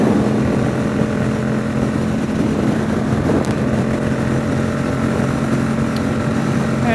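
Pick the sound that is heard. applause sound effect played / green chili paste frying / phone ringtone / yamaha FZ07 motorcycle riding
yamaha FZ07 motorcycle riding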